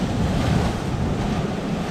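Big ocean waves roll in on a Mediterranean beach at Illetas, a steady, loud wash of surf mixed with wind buffeting the microphone, continuous with no voices.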